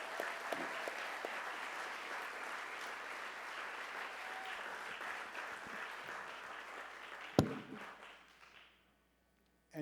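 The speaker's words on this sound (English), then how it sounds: "Let's give a round of applause to all the sponsors and all my speakers and panelists here." A conference summit audience applauds sponsors, speakers and panelists with sustained, even clapping from a sizable crowd, ending in a sharp clap before fading to silence.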